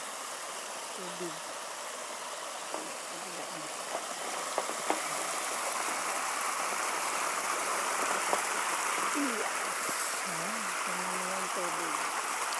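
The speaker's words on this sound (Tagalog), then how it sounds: "Ganda ng tubig. Malinis. Maagos." Clear stream water rushing over stones, a constant broadband burble filling the whole stretch with a few faint voices and small knocks underneath.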